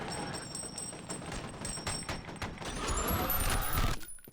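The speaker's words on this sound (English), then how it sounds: "Hear the gunshots." Gunfire in the first-person shooter game F.E.A.R. Extraction Point, a rapid burst of close, sharp shots in quick succession that builds in intensity before cutting off abruptly.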